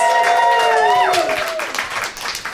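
Audience applause inside a comedy podcast showroom at a comics store in Los Angeles, a broad wash of many hands clapping close and fairly loud, with some tonal whistles or cheers sliding over it early on before the applause carries on steadily.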